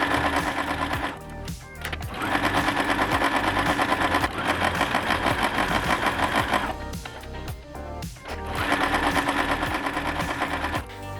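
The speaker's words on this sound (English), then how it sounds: "And we will just sew around all the 4 sides." A home sewing machine stitches around all four sides of paired quilt squares, its steady mechanical whir running loud and close in long bursts separated by brief pauses.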